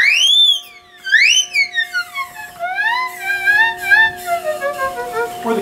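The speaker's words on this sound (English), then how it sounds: "And then of course we have wind," Wind sound effect on an American Fotoplayer theatre instrument, heard as a series of loud, whistling tones that swoop up and down in pitch and gradually settle lower, close and alone.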